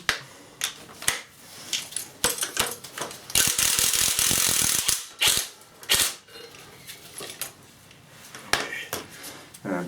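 A hand ratchet works a manifold nut loose on a VW AHU diesel engine, clicking in quick bursts with one longer rapid run of pawl clicks, close up and clear, amid some handling clatter.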